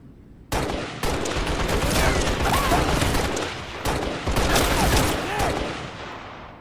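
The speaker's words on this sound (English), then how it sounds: "That looks like a machine gun. That's exactly what that is." Machine gun fire in the Halo video game, rapid bursts of loud automatic shots in several long runs with brief gaps, close and dominant.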